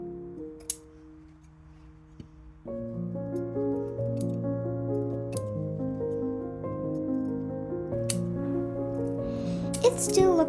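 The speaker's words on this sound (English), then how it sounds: "we use the pinking shear to trim off the edge" Pinking shears trim the curved hem edge of a Barbie doll dress's fabric, giving a few sharp, separate snips spaced several seconds apart beneath steady background music.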